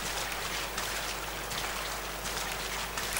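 Steady rain falls at night over a cemetery in the horror game DreadOut, a dense, even hiss of drops on surfaces with no voices.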